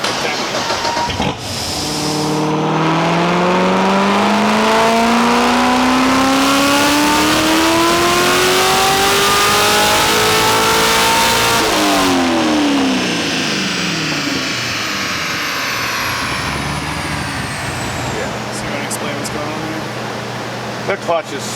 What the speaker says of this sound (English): The clutch is slipping.